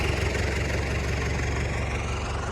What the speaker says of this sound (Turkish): Şöyle bakın traktörümüz ve ekipmanımız burada.